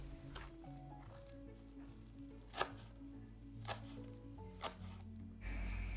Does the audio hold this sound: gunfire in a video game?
no